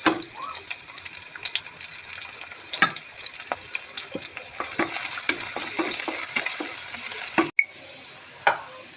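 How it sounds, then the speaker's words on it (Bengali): Onions sizzle steadily in oil for pulao while a utensil scrapes and stirs with repeated clicks; the sizzling cuts out briefly near the end. "পেঁয়াজ ভাজা ভাজা হয়ে এসছে"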